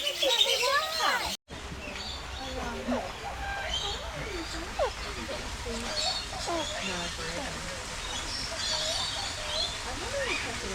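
Major Mitchell's cockatoos at a bird park in Kuranda near Cairns give repeated short screeching calls, some near and some farther off, while people talk over them throughout.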